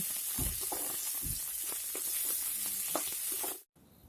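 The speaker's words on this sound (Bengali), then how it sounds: "পেঁয়াজটিকেও ব্রাউন কালার করে বেজে নিতে হবে" Chopped onion fries in oil in a wok with a continuous hissing sizzle and a few soft scraping knocks, close by, before cutting off abruptly near the end.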